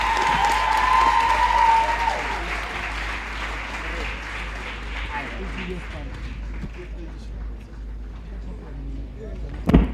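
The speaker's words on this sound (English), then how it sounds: "can we give her a big round of applause?" A crowd claps warmly for a learner pastor introduced at a school launch event, the broadband applause strongest early, then thinning and tapering beneath a speaking voice.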